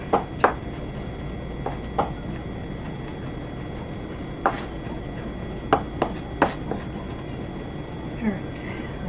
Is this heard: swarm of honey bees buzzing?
no